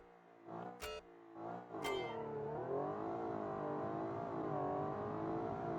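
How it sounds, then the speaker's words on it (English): A car accelerates hard with a rising engine note, broken by a couple of sharp gearbox shifts early on, then pulls steadily on at moderate distance. "Wow, look at that. Gearbox shifting."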